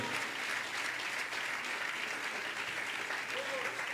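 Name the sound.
church congregation applauding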